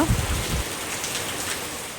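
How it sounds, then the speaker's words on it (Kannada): Heavy rain falling outside a house during a windy monsoon downpour, a steady dense hiss of drops that stays even and fairly loud throughout, with a brief low rumble at the very start. "ಮಳೆ ಬರುವಾಗ ನೇಚರ್ ನೋಡಲಿಕ್ಕೆ ಚೆಂದ ಅಲ್ವಾ?"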